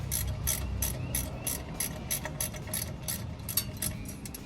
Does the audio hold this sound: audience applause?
no